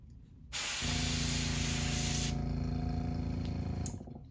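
An airbrush sprays steadily in a continuous close hiss for several seconds while being cleaned between paint colors on a crankbait lure, with a faint mechanical whir underneath before it cuts off.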